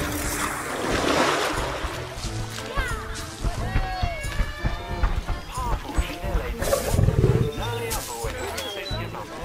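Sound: lion roaring

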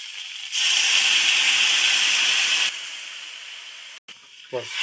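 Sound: water poured into hot pan of eel curry, sizzling

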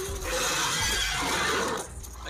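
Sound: horse neighing in video game Devil May Cry 3

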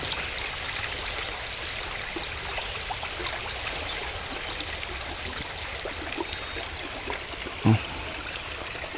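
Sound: rain falling by a stream

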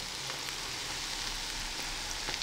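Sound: apple pancakes frying in a pan

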